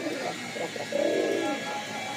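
Several racing and flying pigeons coo in soft, low, repeated rolling calls at close range, a steadier cooing swell in the middle, with no talk.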